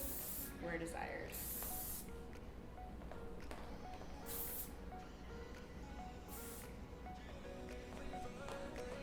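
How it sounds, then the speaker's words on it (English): Hairspray is sprayed onto a styled ponytail updo in bursts, with three loud hissing sprays spaced a couple of seconds apart over a steady, faint background hiss. "add any spray where desired"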